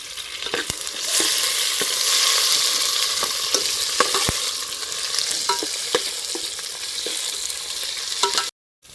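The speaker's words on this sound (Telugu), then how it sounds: "ఉల్లిగడ్డ టమాటా వేసినా కదా, కొంచెం మగ్గిన తర్వాత అయితే మనం కాయగూరల ముక్కలు వేసుకున్నామండి" Onion, tomato and vegetable pieces fry in a pan in an outdoor kitchen while being stirred: a steady, dense sizzle with scattered scraping clicks from the spoon, cutting to silence at the very end.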